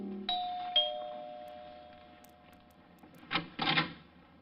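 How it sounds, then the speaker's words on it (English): An apartment doorbell rings with a two-tone ding-dong that lingers and fades, followed by a couple of soft knocks or thuds, in an old radio drama. "rang the bell to Helen's apartment"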